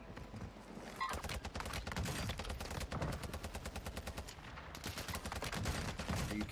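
Rapid automatic gunfire in the video game Warzone 2, a dense continuous stream of shots with steady rhythm, close and loud, with faint talk underneath.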